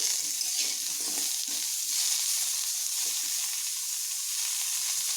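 Pumpkin frying in a pan after salt goes in, a continuous bright sizzle with soft stirring scrapes in the first few seconds, steady and alone.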